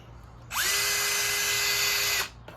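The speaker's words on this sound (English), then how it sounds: "So this is a Snap-on drill." A Snap-on cordless power drill runs in one steady, close, loud whining burst of under two seconds. Its motor pitch climbs quickly at start-up, holds level, then cuts off.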